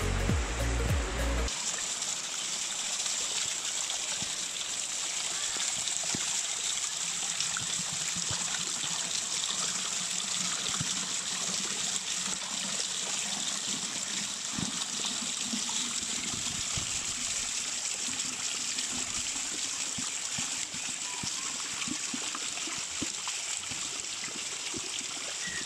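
A stream trickles and gushes steadily over slippery rocks at a lagoon where locals draw their drinking water, a close, continuous watery rush that stays even throughout.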